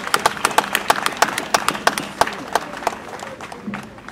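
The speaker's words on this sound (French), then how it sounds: "Applaudissons pour le moment." An audience claps in tribute to a Congolese musician: a run of sharp, fairly regular hand claps that thins out and fades toward the end, with no talk over it.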